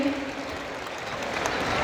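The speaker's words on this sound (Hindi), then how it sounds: "जोरदार तालियां विकास के लिए।" A crowd at an Ambedkar birth anniversary celebration in Delhi gives a short burst of applause for Vikas, a steady wash of clapping of moderate loudness.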